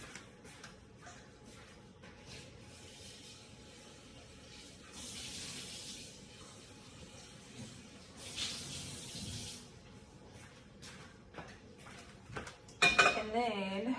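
A blender jar is rinsed under a running tap in a kitchen sink while enchiladas are being made. Water splashes and hisses in a few short bursts, with light clinks of dishes in between.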